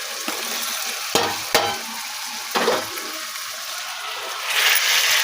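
Chutney going into hot oil for a matar (green pea) fry: a soft background sizzle broken by a few sharp clinks and scrapes of a spoon against the pan, then the frying hiss swells near the end.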